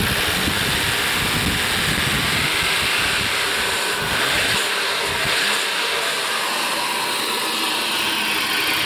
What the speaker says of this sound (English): now if you rev it like that, right at the end, you get a little bit of stumbling in the engine